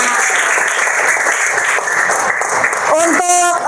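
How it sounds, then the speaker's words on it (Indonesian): Classroom applause at the close of a primary-school lesson: dense clapping from pupils fills most of the short stretch, with a voice breaking in near the end. "Tepuk tangan untuk kita semuanya."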